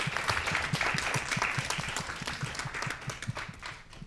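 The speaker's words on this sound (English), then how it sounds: "Let's give our panelists a round of applause." An audience at an art and AI panel discussion applauds the panelists, a moderate, fairly distant round of clapping with steady rapid claps that thins out toward the end.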